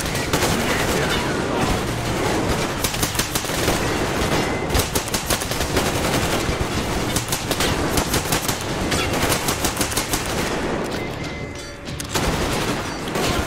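Sustained automatic rifle fire in Metro Exodus Enhanced Edition, set around Yamantau: rapid, loud, near bursts rattle almost without pause, with one brief lull near the end.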